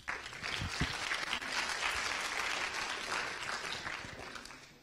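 Enthusiastic applause from an audience, steady clapping that swells and then gradually fades out.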